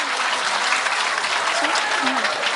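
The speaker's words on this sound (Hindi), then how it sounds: "जोरदार ताली।" Workshop audience at a university session applauding loudly, a thick continuous roar of many hands clapping at once and holding steady from start to finish.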